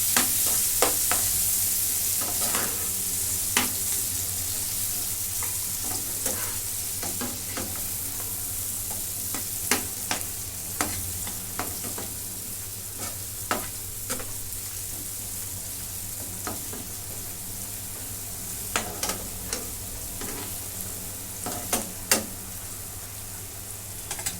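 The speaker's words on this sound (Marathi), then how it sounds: "बारीक चिरून घेतलेला कांदा आहे तो टाकून घेते दहा दोन मिनटं परतून घेतो" Finely chopped onion fries for pav bhaji in a pan, giving a steady close sizzle broken by frequent scraping clicks of a stirring utensil over a low constant hum, with no one speaking.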